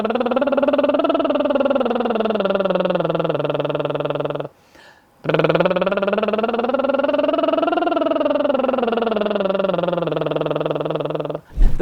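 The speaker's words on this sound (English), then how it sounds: "I want you to start doing a lip bubble over a 9-note scale." A voice performs a buzzing lip bubble, gliding up and down a 9-note scale, then pauses briefly and repeats the same rising and falling pattern.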